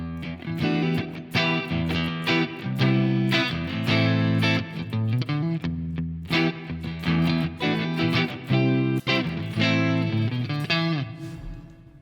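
Big, dark, dramatic reverb from the iZotope Neoverb plugin applied to a played music part, with sustained harmonic tones and rhythmic hits washing into long tails, loud and continuous throughout.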